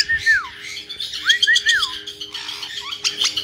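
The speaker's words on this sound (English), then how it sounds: "What are you doing, you goofy bird?" A pet bird squawks in a series of sharp, loud rising-and-falling calls, several in quick succession, followed by scratchier chatter against a quiet indoor background.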